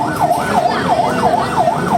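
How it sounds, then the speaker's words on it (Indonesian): Ambulance sirens wail at the scene of a train crash, a loud, steady rising-and-falling siren that cycles about every third of a second over rumbling traffic. "Banyak ambulan belakang."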